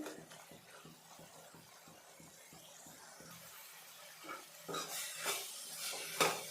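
Spinach palya stirred in an open pan, a steady run of soft utensil scrapes and clinks against the pan, growing louder and busier toward the end with a gentle sizzle beneath.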